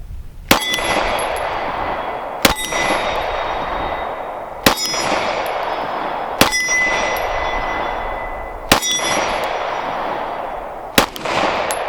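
Pistol shots from a Kimber Carbon Compact strike a steel target, each crack followed by a bright, ringing clang that decays slowly; six evenly spaced impacts over roughly twelve seconds, loud and close with steady outdoor background noise between.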